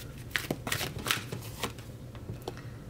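A deck of Archangel oracle cards is shuffled close by, with quick papery riffles and soft flicks in uneven bursts over a faint background hum.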